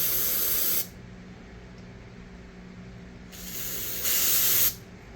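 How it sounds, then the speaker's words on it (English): Brake cleaner sprays into a Quadrajet four-barrel carburetor being rebuilt, cleaning the idle circuit tubes. It comes as two loud, close hissing bursts, a short one at the start and a longer one later, separated by quiet. "when I'm spraying up here, it's actually coming out of these tubes here"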